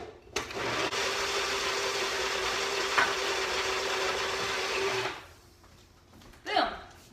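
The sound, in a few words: mixer whipping peanut butter and banana mixture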